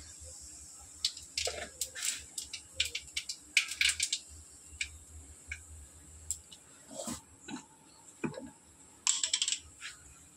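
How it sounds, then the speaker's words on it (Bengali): Black cumin seeds tempering in hot oil in a home kitchen, producing scattered sharp crackles and pops in irregular bursts, fairly close, with quiet stretches between clusters. "দেখো কালো জিরে ফোড়ন দেব"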